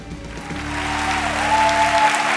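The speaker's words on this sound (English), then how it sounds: "Please applaud for it." A television studio audience breaks into applause that swells and holds steady, mixed with a low sustained musical tone.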